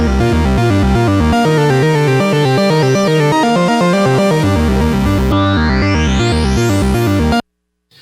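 A raw synth sample recorded into a Make Noise Morphagene: dense, loud repeating notes in a busy sequence, then a rising pitch sweep before it cuts abruptly to silence.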